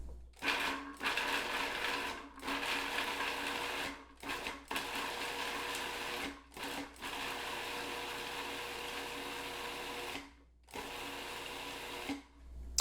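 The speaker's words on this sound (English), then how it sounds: "We put these then in our Cuisinart and chop them up." A Cuisinart food processor chops garlic scapes in repeated bursts: a loud motor whir runs several seconds, cuts out briefly, then starts again, with the longest run in the middle and a final stop near the end.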